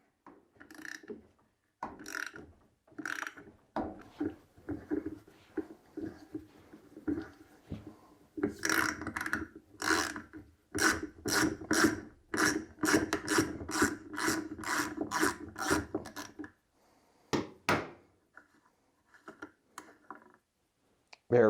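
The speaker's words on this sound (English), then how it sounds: "now I'm going to use a 1/4-inch hex bit on the end of a ratchet to be able to remove" Clicking and rasping from a ratchet fitted with a 1/4-inch hex bit, working a lock loose on a Maytag Bravos XL washing machine. Short ratcheting bursts come in quick uneven runs, close and fairly quiet, with pauses between strokes.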